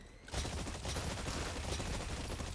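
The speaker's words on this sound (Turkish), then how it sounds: "Silah atış hissiyatı güzel" Rapid automatic gunfire in the video game ExoPrimal, a dense burst of shots from a mech suit's weapon lasting a couple of seconds, loud and close with no talking.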